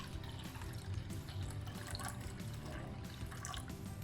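Water poured into a measuring container for steamed egg with prawn, a steady close splashing trickle running throughout.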